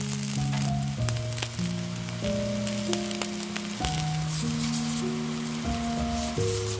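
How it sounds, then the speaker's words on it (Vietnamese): Instant-noodle pizza topped with sausage and cheese sizzles steadily in a covered pan over medium-low heat, a continuous soft frying hiss beneath louder background music. "tiếp tục chiên ở lửa nhỏ vừa trong khoảng 5 phút"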